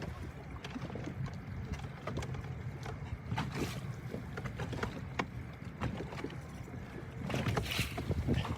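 Steady wind buffeting a microphone on a boat while crappie fishing on Reelfoot Lake, a continuous low rumble with gusty swells and small knocks of the boat.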